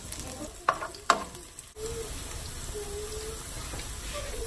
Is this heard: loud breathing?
no